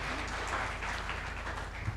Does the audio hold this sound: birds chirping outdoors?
no